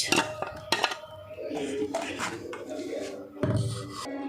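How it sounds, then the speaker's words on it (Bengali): A spoon stirring green chili sauce through a metal strainer, repeated clinks and scrapes of metal on metal with wet sloshing, close and continuous at moderate loudness. "এই যে এটাও এইভাবে চামচ দিয়ে নেড়ে নেড়ে ছেঁকতে হবে"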